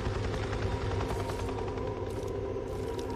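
A helicopter flies overhead in the video game Days Gone, its rapid rotor chop loud and steady amid dense game noise.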